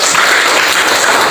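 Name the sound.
applause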